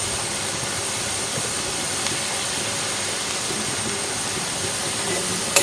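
Onions frying in a pan for Maggi noodles with egg, a steady, loud broadband hiss holding even and unbroken throughout, with no voices.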